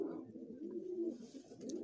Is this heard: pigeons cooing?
yes